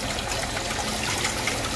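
Water pours from the tap of a filter drum in a water treatment setup with a tray aerator, a steady close splashing flow with no voices.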